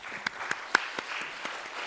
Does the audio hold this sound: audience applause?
yes